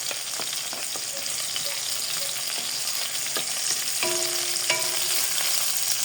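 Onions frying in a pan for a Filipino squash dish, a steady close sizzle with crackling pops and occasional stirring scrapes, no talking.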